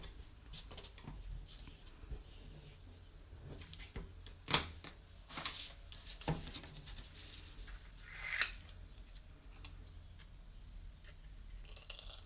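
Scissors snip through a thicker craft material base, a few quiet scattered cuts and rustles with sharper snips standing out over a faint room background.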